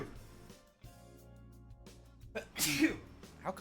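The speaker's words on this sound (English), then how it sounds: "I'm gonna sneeze." One person sneezes sharply and close up after a quiet lead-in breath, and a softer exhale and a small trailing sound follow.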